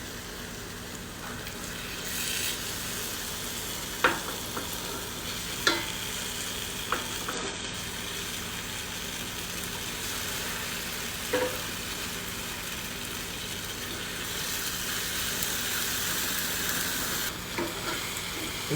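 Chicken pieces dropped into hot oil in a cooking pot for an Indian-style dish, sizzling and frying steadily close up, with occasional stirring clinks and scrapes.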